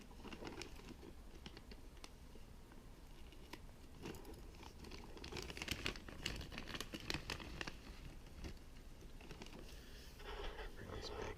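Toy packaging for a Castle Grayskull Origins playset being cut open, with quiet continuous crinkling and rustling plastic broken by small sharp snips and crackles, close and soft throughout.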